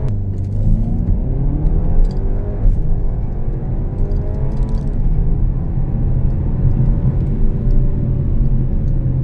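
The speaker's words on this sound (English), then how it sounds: "when you release the brake, the Quattro system simply grips and goes." A 2026 Audi A5 quattro launches hard from a standstill to 100 km/h, its engine note rising in steady stacked harmonics through gear changes, a loud continuous rumble and whir close by with no voices.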